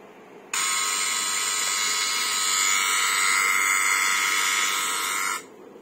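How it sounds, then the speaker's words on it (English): An electronic buzzer from a car protection system's phone-detection alert sounds as a steady, loud continuous tone, switching on abruptly after half a second of quiet and holding for about five seconds before cutting off. "there will be a buzzer sound."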